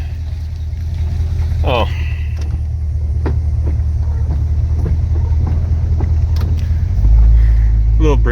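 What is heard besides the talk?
1968 Ford Custom Galaxy 500 being driven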